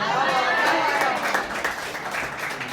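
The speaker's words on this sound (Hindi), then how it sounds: "जोरदार तालियां" An audience at a poetry recitation applauds in a dense wash of clapping with cheering and voices mixed in, close and lively, slowly easing off toward the end.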